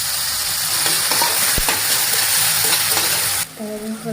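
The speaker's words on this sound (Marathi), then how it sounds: "मस्त टोमॅटो सुद्धा मस्त तेलात फ्राय करून घ्यायचं आहे" Onion and tomato frying in hot oil while being stirred: a loud, steady, close sizzle with scattered scrapes of the spoon, then the hiss cuts off near the end, no talking.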